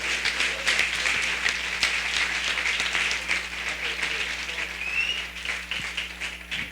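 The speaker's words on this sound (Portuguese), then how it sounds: "Uma salva de palmas para o Senhor Jesus" A church congregation applauds in praise during a worship service, a dense, fairly close wash of clapping with some individual claps standing out and a faint voice underneath, holding steady for several seconds.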